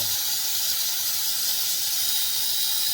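A steam cleaner set to its third power level gives a steady, loud hiss of steam that runs unbroken and alone, with no talking.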